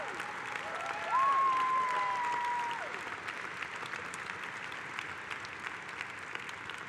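Convention audience at the 80th CWA Convention applauding AT&T Southeast members, a sustained, fairly distant round of clapping with a brief tonal whistle or whoop rising above it early on before the applause continues evenly.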